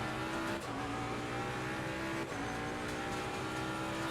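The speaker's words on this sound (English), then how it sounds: "How are you supposed to drive when you're inside a car that sounds like God moaning at his tax return?" A race car engine in Assetto Corsa Competizione drones loudly and steadily, a constant buzzing growl with slight pitch dips as gears shift, heard alone without speech.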